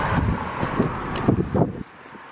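Gusty wind buffets the microphone in rough, uneven bursts, loud and close, then drops to a quieter rush near the end.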